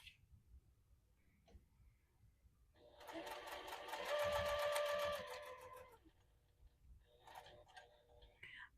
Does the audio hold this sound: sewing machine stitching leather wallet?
yes